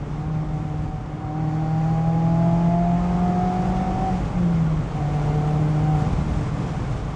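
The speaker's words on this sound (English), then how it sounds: "Love this exhaust." An ND3 Mazda Miata engine drones and revs up, pitch climbing then dropping back, with a throaty exhaust note heard from inside or close by.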